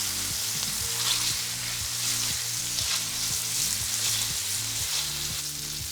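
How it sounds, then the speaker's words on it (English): Turkey kielbasa browning in a pan, with the browned bits scraped from the bottom: a continuous close sizzle at an even level, with background music and no talking. "As I'm cooking this, I'm scraping up all that flavor from the pan."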